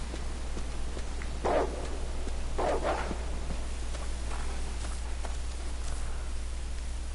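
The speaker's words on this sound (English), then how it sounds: "right, dogs." Dogs barking in the Resident Evil video game: a few sharp barks in separate bursts over a constant low hum and hiss, moderately close, with no talking.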